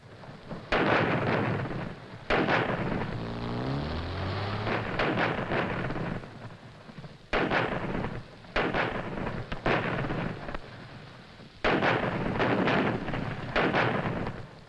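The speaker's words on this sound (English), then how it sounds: "Whenever the British Army saw action, the artillery played a big part." British Army artillery fire heard as heavy booming blasts in several separate bursts, each a loud, sustained rumble with long rolling decay between them, distant and with no talk.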